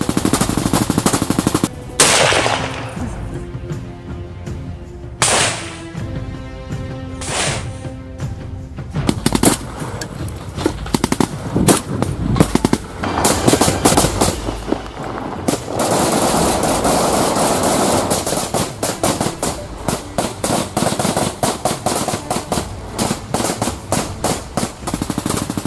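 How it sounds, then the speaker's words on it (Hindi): Heavy gunfire in a war zone during the Israel–Hamas war: loud, dense automatic volleys of rapid shots, interrupted by a few sharp, isolated cracks, rolling on almost continuously with no talk. "देखिए साफ ताबड़तोड़ कैसे गोलियां दागी जा रही हैं, बरसाई जा रही हैं"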